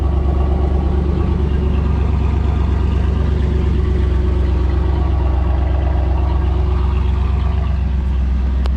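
A third-generation Chevrolet Camaro with a Cherry Bomb muffler idles with a loud, steady, deep rumbling exhaust burble throughout, close up and with no talking.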